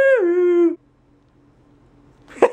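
A small dog gives a close, loud, wavering howl that drops into a whimpering whine for under a second, followed by near silence and a brief sharp noise at the end.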